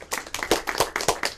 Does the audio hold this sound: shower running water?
no